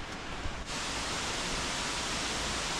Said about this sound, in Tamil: ஃபால்ஸ் கிட்ட வந்துட்டாங்க.